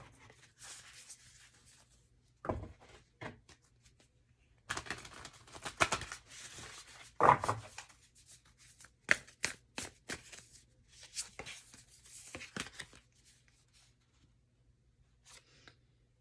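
Tarot cards shuffled close by in quiet bursts, crisp riffling and slapping flicks spaced by short pauses, with a faint low hum underneath.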